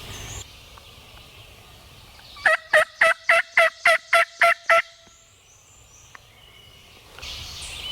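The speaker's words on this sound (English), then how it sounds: "A bird just gobbled." A wild turkey gobbles in a field: one quick rolling burst of about eight sharp pulses, clear and fairly loud against quiet surroundings.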